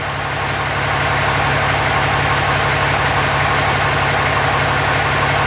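A 2015 Ram 3500 with the 6.7 engine runs at idle, a loud, steady low diesel rumble and vibration that holds even and close throughout after a brief rise at the start.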